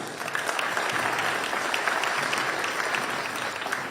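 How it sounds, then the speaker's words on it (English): A crowd at a New Bern mayor and aldermen candidate forum applauds the candidates, a sustained, even roar of many hands clapping that stays at a constant level throughout, with no voices over it. "Round of applause."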